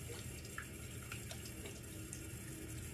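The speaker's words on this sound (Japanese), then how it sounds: "まずは手を濡らします。" Water runs steadily from a tap while hands are being wetted, a continuous soft splashing hiss with no talking.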